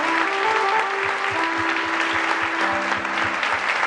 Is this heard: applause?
yes